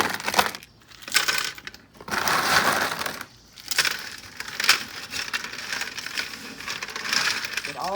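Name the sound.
mixing ice and salt with vegetables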